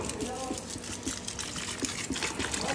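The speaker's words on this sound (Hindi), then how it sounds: "पानी देते हैं।" Water pours and splashes steadily onto a dried-out plant, a continuous gushing trickle with a few soft knocks in the background.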